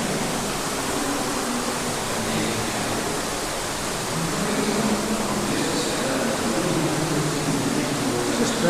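Rushing water echoes through an underground show cave in the Brecon Beacons, a dense steady roar of falling water that fills the space with constant noise, with no clear speech.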